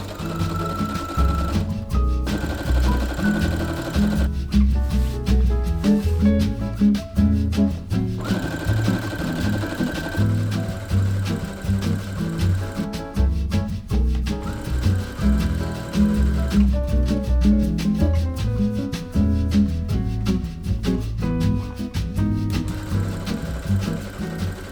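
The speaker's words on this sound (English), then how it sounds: "I turned on my machine and started sewing something" A sewing machine stitches black matte satin scrunchies in loud, close bursts of rapid mechanical clatter, stopping and starting in several runs with short pauses between.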